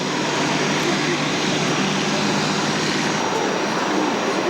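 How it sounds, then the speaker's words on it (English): A propeller training aeroplane flies over the 1988 Biggin Hill Airshow, its engine making a loud, steady drone that fills the whole stretch without a break. "We have another training aeroplane in the sky now."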